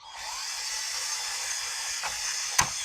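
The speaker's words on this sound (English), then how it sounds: "let that thing drill into the aluminum" A steady high-pitched drill whine runs throughout as the bit goes through plastic, with a sharp crack near the end as it breaks through into aluminum.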